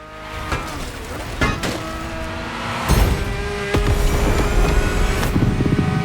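A high-revving Ferrari engine in the video game The Crew Motorfest roars loudly and close up, heard from inside the car, climbing in pitch through several gear changes.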